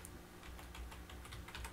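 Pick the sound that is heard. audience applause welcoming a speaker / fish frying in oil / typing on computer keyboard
typing on computer keyboard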